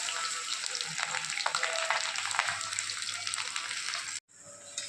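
Pointed gourd (parwal) pieces fry in hot oil in a kadai over full flame, a steady close crackling sizzle with brief stirring scrapes, cutting out abruptly near the end before resuming.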